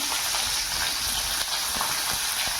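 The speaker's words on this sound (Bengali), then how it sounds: "এবার কড়াইয়ে আমরা কুচনো পেঁয়াজ আর কুচনো ক্যাপসিকামটা দিয়ে একটু নেড়ে দিচ্ছি।" Chopped onion and capsicum fry in a wok, a soft continuous sizzle with light scattered crackles and stirring ticks, fairly quiet and with no talking.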